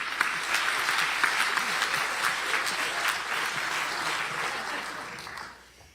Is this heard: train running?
no